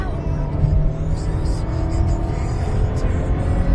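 A car drives fast along a main road in Texas, with a steady, loud rush of engine and road noise heard from inside the vehicle, continuous throughout.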